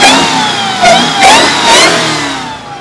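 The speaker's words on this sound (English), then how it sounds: "the pops, it's already burbling" A Dodge Demon 170 with stock exhaust revs loudly nearby in a few surging blips, settling into a rough, burbling idle between pulls with crackling pops on the overrun.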